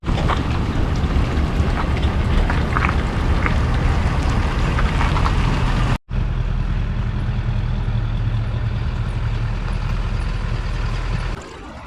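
Continuous loud engine drone with rushing wind and water noise, a powerful jet boat motoring steadily nearby on the river in Hells Canyon, briefly cutting out before the roar resumes.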